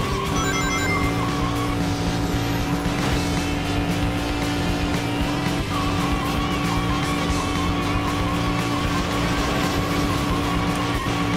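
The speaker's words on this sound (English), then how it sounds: "This is supposed to be drifting" In-game car engine from Sonic Adventure 2 whining steadily with screeching tires as it drifts around corners, sustained and loud under game music, no voices over it.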